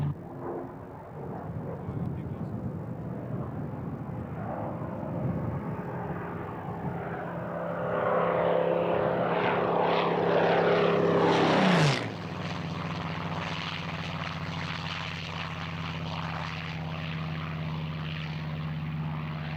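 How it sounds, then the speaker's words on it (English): A piston-engine Spitfire roars past at the RAF Fairford air show with a rising, then sharply dropping engine drone, followed by a lingering lower hum as it moves away. "The piston-engine, propeller-driven Spitfire leads the 9 jets of the Red Arrows."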